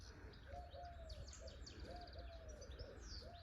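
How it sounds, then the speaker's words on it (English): Outdoors on a smallholding in early April, a dove coos repeatedly in the background while smaller birds chirp and tweet over a soft, steady ambient hush, all fairly faint and distant. "that's just a dove in the background, and always a jackdaw"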